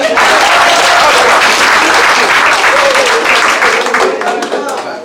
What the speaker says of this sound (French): Il faut applaudir Asmara.